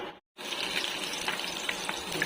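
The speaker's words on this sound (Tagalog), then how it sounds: "Lagay na natin ang mantika." Cooking oil hitting a hot pan before squid adobo is fried, giving a soft, steady sizzle with small crackles after a brief gap near the start, fairly quiet and without voices.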